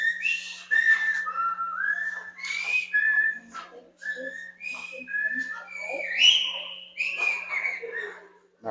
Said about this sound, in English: with the whistling version of the Jeopardy theme. That's what you hear in the background